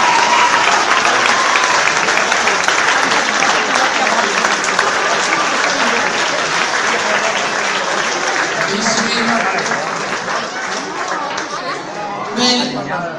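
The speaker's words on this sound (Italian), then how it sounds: "salutiamo i cuochi con un grande applauso" Loud, sustained audience applause for the cooks on an Italian television talent show, with dense clapping and crowd chatter mixed in, tapering slightly toward the end.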